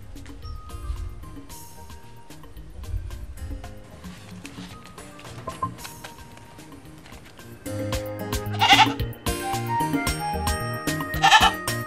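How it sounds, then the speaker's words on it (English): A goat bleats twice in short, loud, wavering calls in the later part, over a busy background of rustling and movement with no talk. "That's usually the goat"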